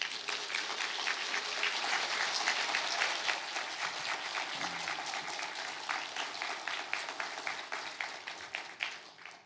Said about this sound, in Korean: 여러분 우레와 같은 박수로 환영해 주시기 바랍니다